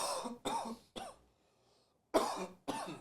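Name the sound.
cough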